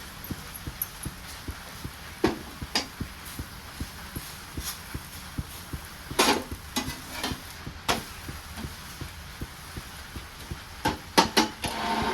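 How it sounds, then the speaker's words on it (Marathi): Methi paratha roasting with oil on a hot pan, a continuous sizzle under rapid, regular ticking and occasional louder scrapes or taps from turning, close by and without speech. "दोन्ही साईड मस्तपैकी आपल्याला पराठा भाजून घ्यायचा आहे"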